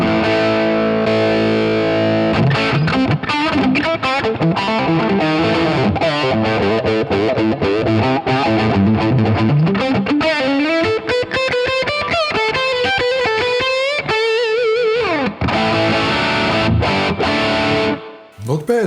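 Gibson SG electric guitar played through a treble booster into an echo unit and a driven amp, sounding loud and distorted with a continuous run of sustained notes and repeating echoes, ending abruptly.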